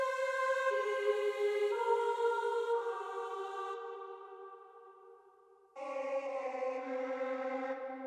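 Sustained choir sample chords from the Olympus Elements vocal library in a beat, a slow descending line of held voices that fades out before a new brighter chord enters, soft and airy with no talking.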